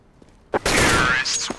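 Counter-Strike: Global Offensive gunfire, a quick sharp shot followed by a dense, loud burst of rapid fire lasting about half a second, then a few trailing clicks.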